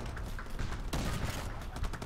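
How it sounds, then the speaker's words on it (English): Rapid bursts of Uzi fire in the video game R.I.P.D. The Game, dense crackling shots in quick succession with a sharper volley near the middle, moderately loud. "Yeah, I changed it from a shotgun to an Uzi."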